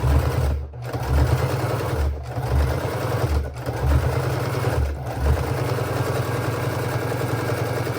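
Sewing machine stitching boning into a structured sleeve, running steadily in close bursts with several brief pauses between runs, no talking.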